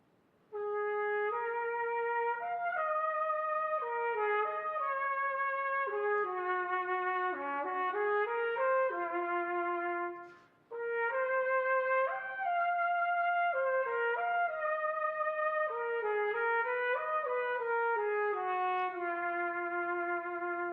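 A solo trumpet, played in a cornet-style concerto manner, sustains a continuous lyrical melody with steady vibrato on its held notes, close and clear, with one brief break near the middle and no talking.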